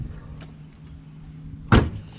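White 2020 BMW 330i hood shut with a single solid thump late in the clip, preceded by a quiet idle-like hum.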